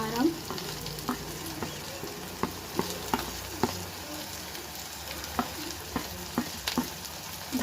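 Spice powders, turmeric among them, fry with softened tomatoes in a pan, giving a steady, close sizzle broken by regular light scrapes of a stirring spoon, with no talk.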